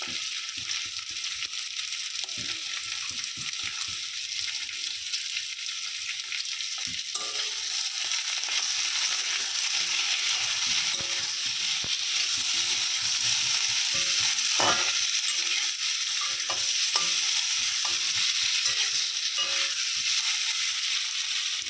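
Potatoes sizzle steadily in hot oil with salt and turmeric, a constant bright frying hiss punctuated by scattered scrapes and clicks of stirring, close and continuous with no talking.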